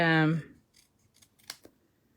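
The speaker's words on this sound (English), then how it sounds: "just your scissors will be fine." Scissors snip through card stock for a Christmas card border, a few short crisp cuts that are faint and close, following a louder opening sound.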